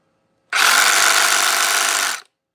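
Milwaukee reciprocating saw runs in one loud, steady burst of just under two seconds, its buzzing motor mixed with a rattly mechanical chatter.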